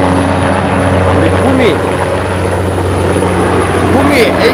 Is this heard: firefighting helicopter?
yes